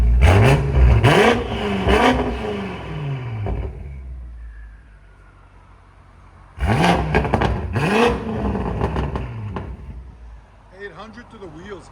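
A tuned 2020 BMW M8 Competition with downpipes and Flowmaster Outlaw exhaust pulls hard, loud and close, its engine surging up in two bursts with a whistling turbo spool between, then dropping away as a voice speaks at the end.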